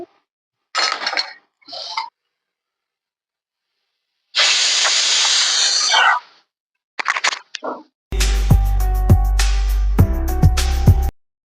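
Pressure cooker on a stove lid gives several short hissing bursts and one longer steady hiss, then a loud sustained whistling release with metallic clinks, all alone and close.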